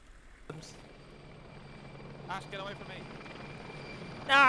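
A helicopter in the military video game Arma 2 drones with a steady rotor hum, moderately loud, while players talk and shout over it.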